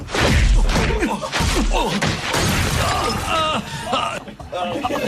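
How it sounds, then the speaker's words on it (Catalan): Punch sound effects in a fight scene from the film Ruslan: Venganza de un asesino, heavy loud impacts and crashes mixed with shouting voices and dense action noise. "De veritat, escolteu el primer cop de puny."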